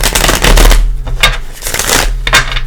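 Tarot cards are shuffled up close, a loud riffle of rapid flicking and clattering bursts followed by softer card slaps, with no speech.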